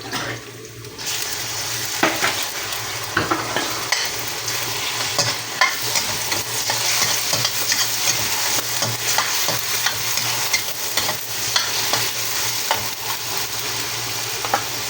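Rice and chicken fillet stir-frying in a pan for homemade pancit bihon, with steady sizzling and repeated scraping stirs close by, running continuously with no talk.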